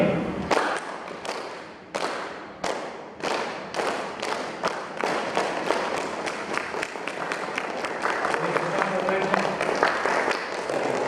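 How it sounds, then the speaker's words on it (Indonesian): Students and teachers clap hands together in rhythmic patterns, first a few sharp separated claps, then faster bursts building into dense, continuous clapping, with some voices underneath. "Sekarang tepuk tangan saya"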